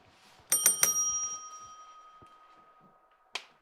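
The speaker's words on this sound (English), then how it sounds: "That's the sound the bell makes when it wants the match to start." A bell from a commentary soundboard during a Counter-Strike match, Cloud9 versus OpTic on Mirage, strikes three quick bright rings that decay slowly, then gives one more short ring near the end.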